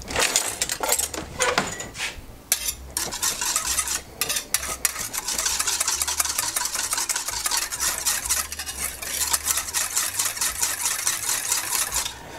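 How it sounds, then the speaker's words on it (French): Spoon scraping and clinking in a bowl while stirring a vinaigrette made with cane sugar, a rapid continuous rhythm of metallic taps and swishes, close and loud, with no talking. "On va tout brasser ça."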